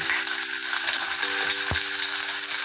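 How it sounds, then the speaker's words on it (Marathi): Onion sizzling and frying in hot oil in a pan while cooking a spicy shark fish and prawn curry, a steady loud hiss throughout with a brief stir or drop partway through. "तापलेलं आहे तेल, कांदा टाकू आपण."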